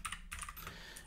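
Keys tapped on a computer keyboard while entering values into a Pico-8 game editor, a short run of quick light clicks in uneven rhythm, close and soft, without any speech.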